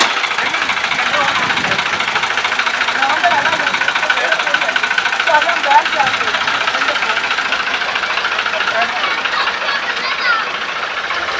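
A stalled combine harvester's engine is being started with a push from a Ford tractor, giving a steady, loud diesel rumble and knock throughout, with people talking over it.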